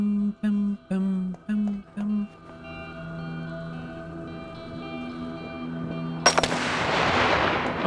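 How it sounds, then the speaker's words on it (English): Gunfire in the video game This War of Mine: after a few short tonal game sounds and a sustained musical drone, a sharp loud shot bursts in near the end, followed by a rushing noisy tail. "the gunshots would be really loud there"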